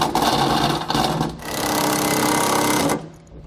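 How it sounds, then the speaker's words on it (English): Larger suspension bolts on a Roadmaster Comfort Ride suspension for a 2017 Grand Design Reflection trailer being tightened with a 22 mm socket: a loud, steady mechanical whirring rattle for about three seconds, then it cuts off. "We can then go back and tighten down our hardware. For the larger bolts here, we're going to use a"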